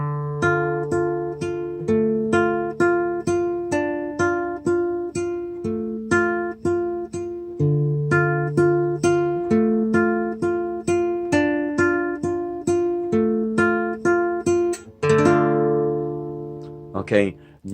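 A guitar plays a steady fingerpicking pattern, the thumb alternating on the bass strings under plucked treble notes, a regular rhythmic run of notes for about fifteen seconds ending on a strummed chord.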